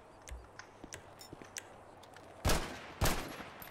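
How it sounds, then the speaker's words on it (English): Two sharp, loud Glock gunshots from a modded FiveM game sound pack ring out near the end, after a stretch of faint scattered clicks and taps. "That's the sound pack for the guns."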